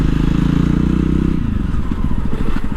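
A Jawa Perak motorcycle's exhaust burbles loud and close, a deep steady thrum that breaks into a rhythmic, popping idle-like beat partway through.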